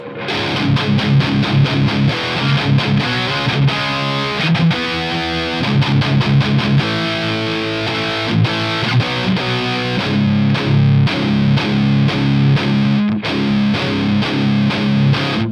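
An ENGL Savage 120 mk II guitar amp with the high switch engaged roars with a thick, heavily distorted tone, playing chugging riffs and chords in steady rhythmic bursts, loud and close with no voices.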